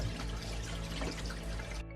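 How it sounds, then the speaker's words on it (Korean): Green laver seaweed swished by hand in a basin filled with plenty of water, giving a steady close sloshing and trickling of water that runs without a break for nearly two seconds and then stops abruptly. "물을 넉넉히 받아서 한 번만 씻어줄게요"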